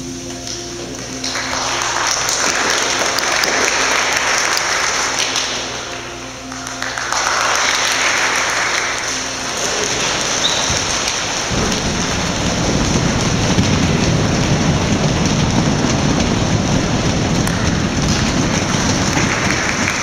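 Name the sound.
audience imitating English rain with their hands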